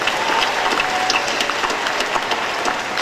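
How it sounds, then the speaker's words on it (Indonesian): Loud, dense applause from a big crowd at a college graduation ceremony honoring alumni, a continuous roar of many hands with no pauses across the whole few seconds. "Tepuk tangan untuk para alumni kita."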